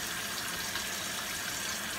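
Hot tap water gushes steadily into a stoppered sink being filled for hand washing dishes, a continuous close splashing rush with no voices over it.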